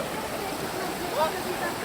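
A mountain stream near Kasprowy Wierch flows with a constant broad rushing hiss, close and even throughout, with a brief faint tonal chirp partway through.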